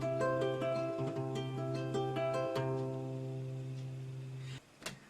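An eleventh chord picked as an arpeggiated accompaniment on a stringed instrument, individual notes ringing and overlapping into a sustained chord, fairly quiet and alone, fading out near the end.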